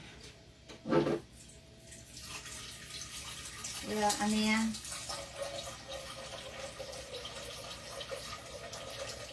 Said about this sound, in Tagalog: Naglalagay lang ako ng tubig dito sa ano, kaldero